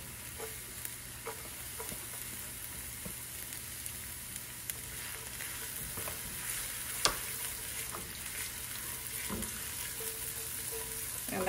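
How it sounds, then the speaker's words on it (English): Onions and garlic fry in hot oil with a steady, faint sizzle, broken by a few light clicks and taps from the pan, with no talk. "I have my oil heating up, so I'm going with my onions and I have some garlic there"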